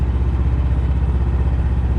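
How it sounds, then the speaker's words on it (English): A Mokai ES-Kape jet kayak motor idles with a loud, steady low putter and a fast, even mechanical pulse, close up and alone. "That's the painless clutch, keeping me from being propelled forward while the motor's running in an idle."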